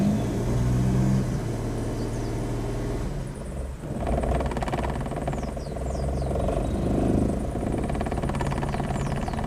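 Daewoo Matiz engine idling roughly with a faulty idle control valve, a steady low rumble and whir that wavers unevenly, with a brief dip partway through, heard close and continuous without talk.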